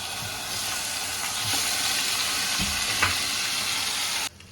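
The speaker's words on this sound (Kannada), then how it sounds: "ಅದಕ್ಕೆ ನಾವು ನೆನೆಸಿಟ್ಕೊಂಡಿರೋಂಥ ಪ್ರಾನ್ಸ್ನ ಹಾಕ್ತಾ ಇದ್ದಾರೆ" Soaked prawns dropped into hot ghee in a pan, giving a loud continuous sizzle and crackle with a few stirring clatters before the frying cuts off abruptly.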